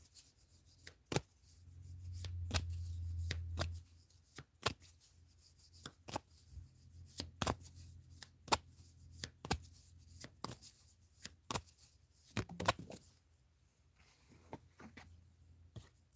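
Crisp, repeated riffling and snapping of a card deck being shuffled, quiet and close, in irregular bursts with pauses between.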